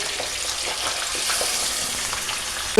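Fish pieces frying in oil for a fish curry, a dense steady sizzle with soft crackles, loud and close, and a brief knock right at the end.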